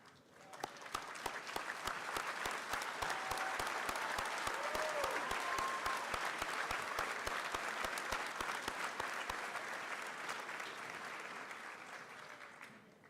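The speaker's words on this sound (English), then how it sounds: "please stand and be recognized with a round of applause at this time" At a 2022 El Dorado High School graduation ceremony, a large crowd claps for the graduates. The steady, fairly distant applause swells, holds with a few sharp individual claps on top, then fades away near the end.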